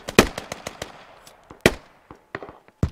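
Sharp blasts and crackling gunfire burst out in a Squad firefight, with one heavy grenade explosion standing out among several loud, close impacts and quieter pops between them; no one talks.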